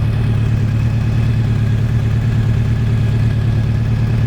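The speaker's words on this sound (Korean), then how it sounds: "공사 차량 때문에 바이크를 옮겨야 하는 날, 겨울 내내 너무 안 타서 엔진 점검할 겸 잠깐 한 바퀴 돌았습니다" A motorcycle engine running steadily on a short check ride after sitting unused all winter, a loud, close, even low rumble with no change in pitch across the whole stretch.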